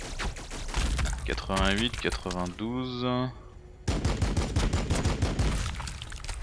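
Rapid bursts of gunfire from units in the Warhammer 40k: BattleSector strategy game crackle in dense volleys, with someone talking over them and a brief musical or vocal effect in between.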